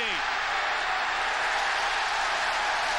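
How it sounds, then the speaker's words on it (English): Stadium crowd at a 2005 NFL game between the Bears and Redskins roars as one loud, unbroken wash of noise with no breaks or quiet stretches. "This crowd noise is unbelievable"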